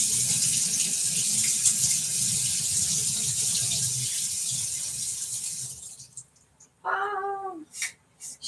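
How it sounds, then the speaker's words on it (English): Kitchen tap water runs steadily into a sink, rinsing excess oil off food for several seconds, then stops; brief meow-like squeaks and faint clatter follow near the end. "Need to give this a quick rinse."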